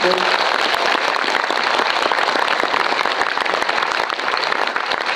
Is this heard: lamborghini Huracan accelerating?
no